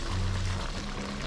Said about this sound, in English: I have some hot water in a pot here, so I'll add some.